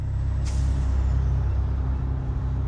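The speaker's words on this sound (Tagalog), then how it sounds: "Sa labas ay dumating si Doña Celia sakay ng isang malaking truck." A large truck idling with a low, steady engine rumble gives a sharp burst of air-brake hiss partway through, close and loud, with no voices.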